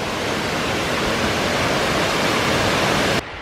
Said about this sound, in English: We made it to the quiet section of the river, the waterfall thing.